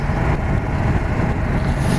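A 2017 BMW S1000R motorcycle engine gives a steady, close, low rumble with a rough broadband texture, running evenly for two seconds with no voices.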